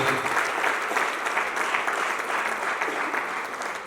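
At a church jubilee service marking 25 years, a congregation applauds to God with a full, even wash of many hands clapping, steady and close for several seconds.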